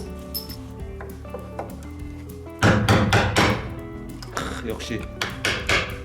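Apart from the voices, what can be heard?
hammer knocking parts off a Chevrolet Spark car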